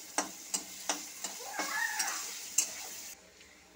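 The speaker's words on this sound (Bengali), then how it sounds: "এখন আমি এগুলো ভালো করে ভেজে নেব।" Ginger and cumin paste frying with spices in a pan gives a close sizzle, punctuated by a series of sharp spatula taps and stirring scrapes against the metal.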